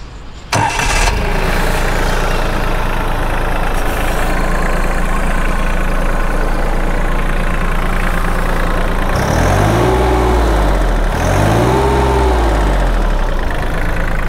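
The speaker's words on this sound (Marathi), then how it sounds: "तर हा आहे तुमचा फार्मा ट्रॅक ॲटम 30चा साऊंड." A Farmtrac Atom 30 hp tractor engine cranks and catches with a loud burst, then settles into a steady close diesel idle with a couple of revs near the end.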